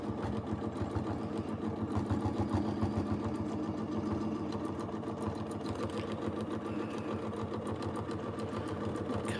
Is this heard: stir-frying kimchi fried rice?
no